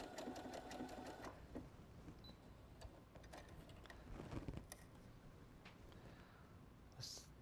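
A Brother Innov-is NS80e sewing machine stitches fabric with a quiet, steady mechanical whir and fine ticking, close by and faint, with a few brief clicks and no talking.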